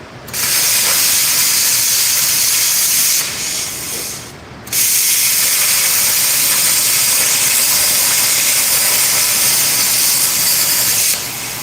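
A plasma torch cutting through a turbine engine gives a loud, harsh continuous hiss and roar with a short dip partway through before resuming at full strength.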